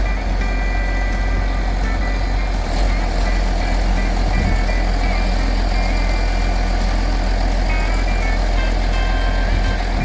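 A manure truck pulling under a load stand pipe, its engine idling loudly and steadily close by, with intermittent reversing beeps over the low drone.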